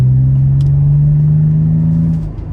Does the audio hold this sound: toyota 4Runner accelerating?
yes